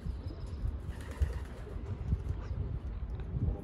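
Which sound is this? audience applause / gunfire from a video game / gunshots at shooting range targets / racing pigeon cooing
racing pigeon cooing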